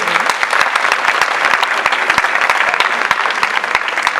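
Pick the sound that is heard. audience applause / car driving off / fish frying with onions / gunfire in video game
audience applause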